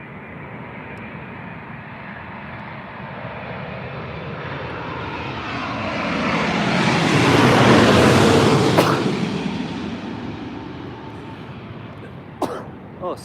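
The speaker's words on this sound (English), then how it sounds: "in it comes now, British Airways 7879 from Mexico City, Kilo Foxtrot" A British Airways Boeing 787-9 landing at Heathrow swells from a distant jet whine to a loud, broad roar as it passes close overhead, then fades away, with a brief cough or sneeze near the end.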